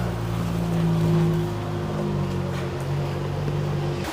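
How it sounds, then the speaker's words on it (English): Water gushes out at the end of an ancient rock-cut tunnel by the Gihon Spring in the City of David, a steady, close rushing flow with a low hollow rumble and no talk. "This is the end of the water tunnel. Over here the water comes out."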